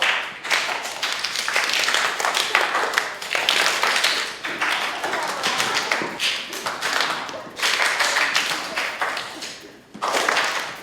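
Repeated hand claps from a juggler clapping under low throws in a circus workshop, a dense run of sharp taps with brief pauses, moderately close with room echo.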